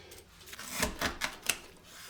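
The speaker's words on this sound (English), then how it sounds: "The traditional way is to just cut it up, chop it up into chunks." A knife chops cooked jerk chicken into chunks on a board, four sharp, quick strikes close by, with no talking.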